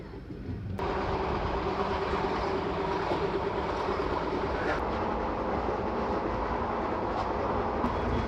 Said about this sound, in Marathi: आता गाडी हातकणंगले रेल्वे स्टेशनवरून डिपार्चर होत आहे